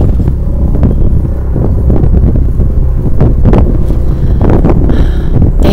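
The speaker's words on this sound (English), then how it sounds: "Damn wind." Gusty wind buffets a microphone outdoors on an otherwise calm day, a loud continuous low rumble with surging bursts and no speech.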